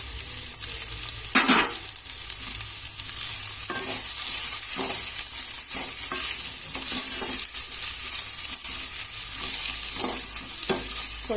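Onions fry with salt and turmeric for a broad bean curry, keeping up a dense, even sizzle for over ten seconds, broken by occasional spatula scrapes and knocks against the pan, with no talking.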